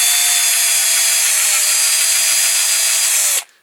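A small drill bores headlight holes into a diecast Dinky Toys Morris 1100 model, giving one steady, loud, high whine that holds for over three seconds before cutting off abruptly.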